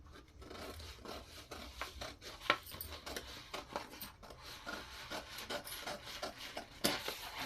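Scissors cut a paper pattern for a size 40 katori blouse, making a soft, continuous rasping and snipping with small irregular clicks, close and fairly quiet, with no speech.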